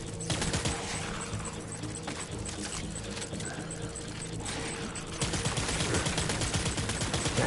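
Dense, sustained gunfire in the video game Death Stranding Director's Cut on PS5: a steady volley of rapid shots that grows louder and busier for the last couple of seconds.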